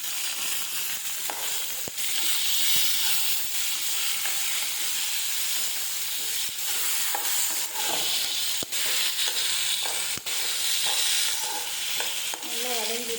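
Tomato, curry leaves and a small piece of ginger sauté in a pan for chutney, giving a steady loud sizzle and hiss with frequent spatula scrapes and stirring clatter throughout, no talking.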